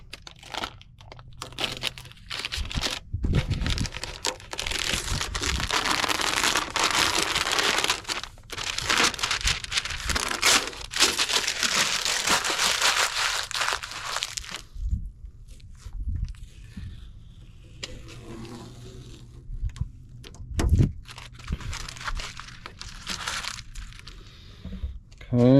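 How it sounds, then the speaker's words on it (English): Masking tape peeled from a painted Foxbody Mustang GT wall art piece, giving long dry crinkling tears in two bursts with short pauses and a few knocks, fairly close and loud. "Let's see what happens when we try and remove our tape over here."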